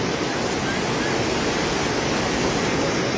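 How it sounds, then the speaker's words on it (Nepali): A flooded river in Kathmandu, swollen and rising, rushes past in a loud, dense, unbroken roar of churning water that fills the whole scene at close range. "त्यो त बगाउँछ नि एकछिन फोर्स आएपछि त बगाउँछ नि हो बढिरहेछ खोला"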